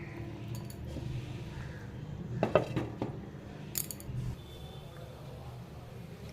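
Chicken curry is spooned into a bowl, with a few faint, bright clinks of a utensil against dishware coming in short clusters over quiet kitchen background.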